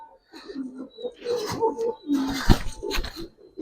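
Giribaz pigeons coo softly in short low bursts while someone talks close by throughout.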